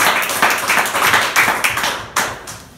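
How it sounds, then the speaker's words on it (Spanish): Clapping rings out during a church service, a run of brisk, fairly loud claps from a few hands, close by, with no talk. "Ese aplauso sea para el Señor Jesucristo."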